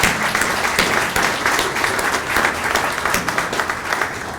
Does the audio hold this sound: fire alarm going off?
no